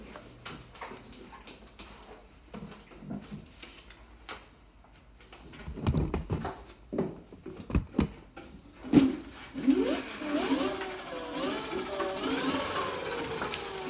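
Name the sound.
motor revving as the bike is accelerated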